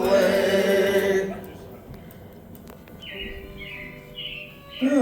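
Animatronic-show robins chirping in Disney's Carousel of Progress, a few bright, sweet twittering calls following a fading snatch of music, with a quiet theater ambience underneath.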